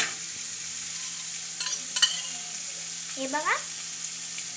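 Corn sizzles in butter with onion and chili powder, a constant close frying hiss broken by a few spoon clicks and scrapes, while someone briefly speaks over it.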